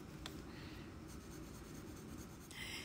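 A pen drawing a Zentangle pattern on paper, soft close scratching strokes under a steady low room hum, with a brief brighter scrape near the start and another near the end.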